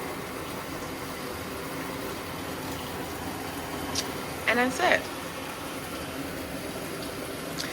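Water running into a Black & Decker Portal washing machine, a steady soft hiss and flow with a short gurgling burst partway through, a voice talking briefly over it.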